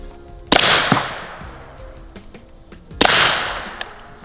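.300 Blackout subsonic rounds are fired at a target, giving two sharp, loud cracks about two and a half seconds apart, each with a short decaying tail over a low background hum.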